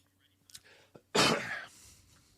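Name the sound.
cough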